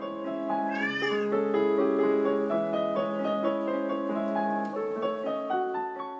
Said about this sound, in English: That's her playing, and her cat is singing along.